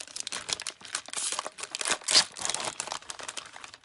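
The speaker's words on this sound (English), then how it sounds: "I'm going to open the package by peeling it back from the top." A sterile glove package is peeled open from the top, giving a dense, close crinkling and crackling of paper and plastic in quick bursts, loud and alone.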